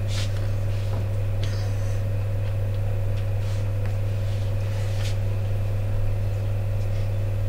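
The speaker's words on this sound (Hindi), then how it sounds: "पीछे गाड़ियां जा रही है, उनकी आवाज आ रही है।" Road traffic passes behind a classroom as a constant low rumble and hum, with faint passing swells layered over it and no talk.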